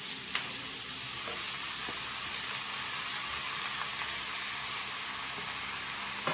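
Country chicken sautéed with half-fried onions for kozhi kuzhambu, a constant crackling sizzle of frying with occasional stirring clicks and scrapes, fairly quiet and steady with no voices.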